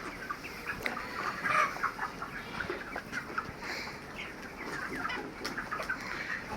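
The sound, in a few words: broiler chickens clucking on an open-air farm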